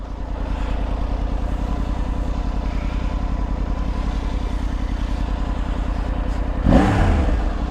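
A Triumph Tiger 900 adventure motorcycle engine runs steadily and loud while riding, then rises in a brief rev toward the end.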